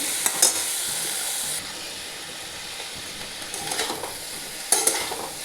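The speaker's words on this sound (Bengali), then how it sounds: "এরপর আমি টমেটোটা কুচিয়ে দিয়ে দিচ্ছি।" Chopped tomato hits a hot pan and fries with a steady close sizzle and hiss while being stirred, sharp crackling spikes at the start and end, for a vegetarian curry.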